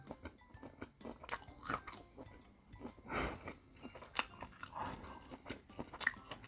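Crunchy fried food with tomato sauce is bitten and chewed close to the microphone, with repeated crisp crunches and wet chewing spread across several seconds, fairly quiet and without speech.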